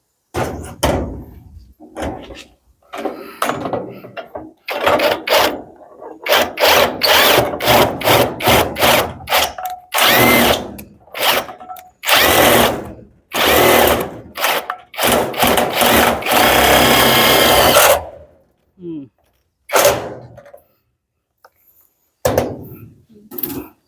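A power tool drives bolts while solar panels are installed on a roof, heard as repeated loud, close whirring bursts of varying length separated by short pauses, with occasional knocks and no clear talk.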